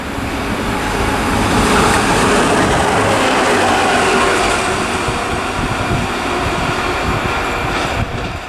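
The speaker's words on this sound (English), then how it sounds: "got a tamper coming through now" A railway track tamper machine rolling through Dunblane station, a loud sustained rumble and clatter of wheels on rail passing close by, holding steady for several seconds before easing slightly at the end.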